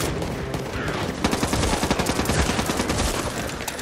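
Rapid gunfire in the co-op shooter Back 4 Blood, dense bursts of automatic shots under a noisy, chaotic game mix.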